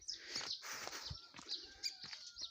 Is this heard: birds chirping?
yes